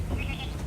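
Goats in the Animal Kingdom park at Walt Disney World give a brief, close bleat under a steady low background.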